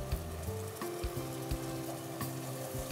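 Onion, ginger paste and chili powder frying for chicken korma, a steady close sizzle with a few soft stirring scrapes and no voices.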